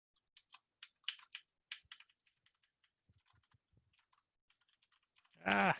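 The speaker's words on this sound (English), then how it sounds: "Typing is hard." Keys on a computer keyboard are tapped in short, irregular bursts of clicks, quiet and close, followed by a few soft taps and a brief bleating-like sound at the end.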